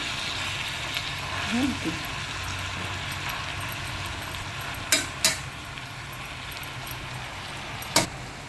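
Gongura sorrel leaves for potato pulao softening in a pan with a soft, even simmering hiss throughout, broken by a few sharp metallic clinks of a utensil.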